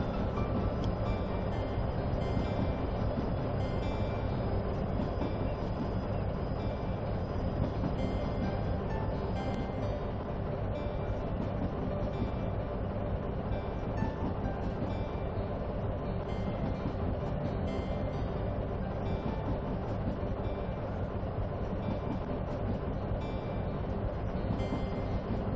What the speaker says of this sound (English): Another nice thing about being able to ride the train